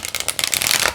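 Tarot cards being shuffled make a close, rapid riffling flutter of quick papery bursts, building in density before stopping.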